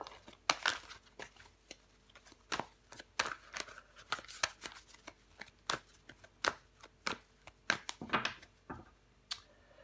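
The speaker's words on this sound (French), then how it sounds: "Je vais recouvrir des cartes." Tarot cards snap and slide one after another at close range as they are laid down and covered on a table, a run of crisp flicks and shuffles with no voice.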